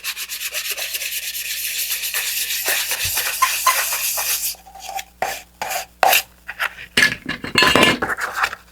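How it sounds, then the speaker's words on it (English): Sandpaper rubs against a part of a Draco BG model rocket: a continuous close scratchy rasp for several seconds, then short separate strokes with brief pauses between them. "clean it up with some sandpaper."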